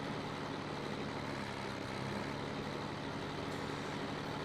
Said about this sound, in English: this tractor is loud